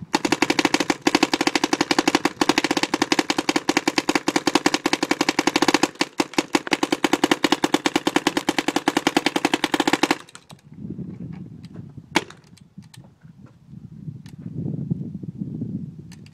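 An Alien Invasion paintball gun firing a long, rapid, machine-gun-like stream of shots for about ten seconds, loud and close, then a few isolated pops over quieter background rumble.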